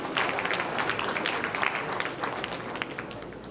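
Audience applause at a welcome and thanksgiving ceremony, a dense sustained patter of many hands clapping, fairly loud and even, with a faint murmur of voices underneath.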